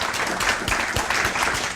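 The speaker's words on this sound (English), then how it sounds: "let's applaud these guys, because I think they set the stage wonderfully" Applause from a technology panel audience, a short dense burst of clapping heard up close.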